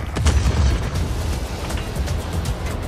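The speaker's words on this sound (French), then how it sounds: "Mais les explosions et les tirs me perturbent." Explosions in the video game Just Cause 4, a loud boom with rumbling low-end bursts that roll on continuously for several seconds without speech.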